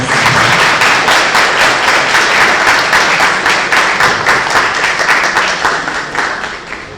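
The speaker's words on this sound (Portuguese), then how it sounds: "Uma salva de palmas." Hearty applause from an audience at a job-market round-table, with steady rhythmic clapping from many hands and some sharp individual claps near the listener. It holds loud for about seven seconds before easing slightly at the end.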